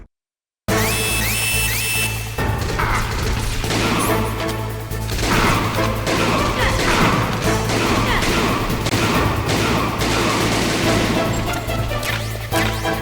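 Sustained gunfire and crashing impacts in Metal Gear Solid, dense and loud throughout after a brief silent opening, layered over steady game music.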